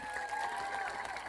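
A crowd in Madiun applauds through rain at an outdoor Gus Miftah religious talk, a brief, steady wash of dense clapping with a faint tonal hum beneath.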